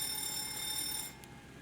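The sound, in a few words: APU fire alarm bell test, FlyJSim 727 flight simulator video game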